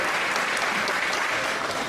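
Wrestling crowd at a CHIKARA show cheering and applauding steadily as a wrestler rallies them, a dense, loud wash of clapping with no pauses.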